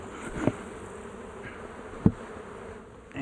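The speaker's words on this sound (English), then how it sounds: "There's a nice pile of bees around the side of the box here." Wild bees swarming around the side of a hive box during removal from an underground telephone cable pit outdoors in the bush: a steady, close buzzing drone runs throughout, with two brief knocks breaking through.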